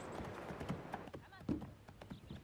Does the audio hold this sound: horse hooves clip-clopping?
yes